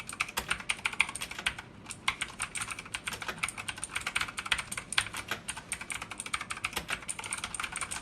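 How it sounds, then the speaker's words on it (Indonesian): Rapid clicky keystrokes on a Digital Alliance Meca Master mechanical keyboard with OTEMU Blue switches, loud and close, in an uneven continuous typing rhythm with no talking. "Dengan memakai OTEMU Blue Switch untuk mechanical keyboardnya, keyboard ini memberikan kesan yang clicky dan juga agak berisik sih."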